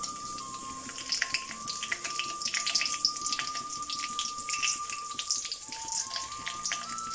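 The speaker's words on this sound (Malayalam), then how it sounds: "അപ്പോൾ വെളിച്ചെണ്ണ ചൂടായി, കടുക് പൊട്ടിച്ചു" Mustard seeds and cumin popping in hot coconut oil, a dense run of rapid crackles and tiny pops like rain that is steady and close, faint overall, with no speaking.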